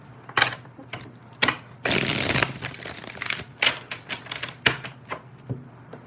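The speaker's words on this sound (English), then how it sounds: "one more shuffle" Tarot cards are shuffled close by in short crisp riffles and flicks, with one longer rustling burst in the middle, quiet overall.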